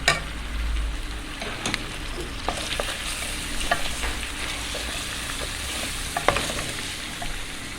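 Chicken fries in a pan of oil with cinnamon stick, ginger, turmeric, salt and black pepper, hissing and crackling steadily and close, broken by scattered stirring clicks and scrapes, with no one talking.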